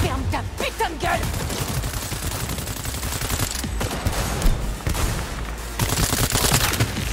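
Sustained gunfire in the Cyberpunk 2077 video game, with rapid bursts and overlapping shots rattling continuously, loud and close, with a few brief lulls between volleys.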